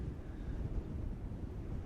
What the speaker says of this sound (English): I wish it wasn't so windy sometimes.